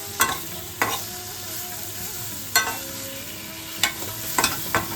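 A spice paste with tomato fries in a pan, giving a constant low sizzle broken by about five sharp scrapes of a spoon against the pan at irregular intervals, with no voices.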